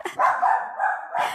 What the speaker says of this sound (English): Yes, the dogs are being very vocal today